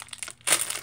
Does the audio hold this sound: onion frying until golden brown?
no